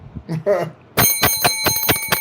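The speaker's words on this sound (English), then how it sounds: "Let's ring the bell for sexy." A bicycle bell rings rapidly and repeatedly, loud and close, right after a brief moment of speech.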